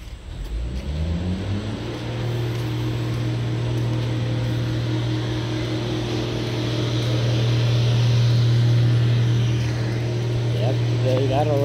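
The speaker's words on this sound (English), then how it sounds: "they gotta lay down that cement. You hear the truck" A cement truck engine nearby revs up, then settles into a loud, steady low drone that carries on throughout.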